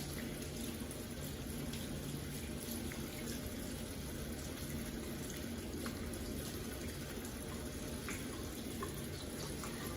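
Tap water runs steadily into a sink while hands are rinsed, a continuous close splashing stream that stays even throughout with no voices.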